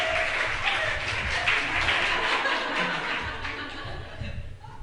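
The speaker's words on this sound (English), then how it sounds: "A round of applause for Suze." Audience at a talk clapping steadily with some chuckling and laughter mixed in, a full, sustained round that eases slightly toward the end.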